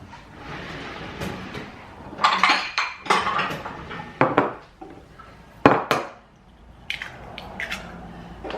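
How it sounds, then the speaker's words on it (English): Eggs and milk mixed by hand in a bowl for apple pancake batter: irregular clinks and taps of utensil against the bowl, louder bursts of rapid clinking between quieter scraping, close up with no talking. "we're going to mix our eggs and milk together"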